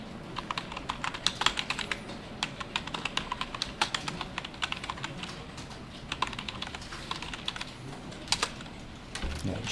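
Steady, close typing on a computer keyboard during Python Django setup at the command line, with a busy run of quick key clicks and occasional heavier keystrokes, quiet and without speech.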